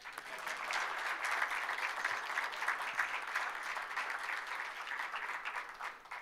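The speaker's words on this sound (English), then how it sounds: "It's okay, you can applaud." An audience applauds steadily at a basketball awards show, a dense wash of clapping hands sustained throughout at moderate volume, with no voices over it.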